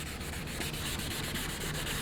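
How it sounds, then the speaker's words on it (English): Wet sanding a BMW E39 M5 headlight lens by hand, a steady soft rubbing and scraping that sweeps back and forth in a regular rhythm, close and quiet, with no talk. "when you're wet sanding"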